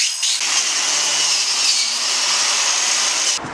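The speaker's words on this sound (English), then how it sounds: "Let's go crazy with the grinders." Angle grinders fitted with wire wheels scour the engine bay of a 1986 Ford F250, a loud continuous abrasive whir and scrape held close for several seconds before cutting off abruptly, with no talk.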